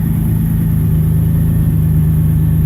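A 2018 Buick Regal TourX engine runs through a worn muffler with bad packing, giving a loud, steady, low exhaust drone that holds constant at idle with no voices.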